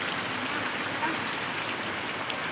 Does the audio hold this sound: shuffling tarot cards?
no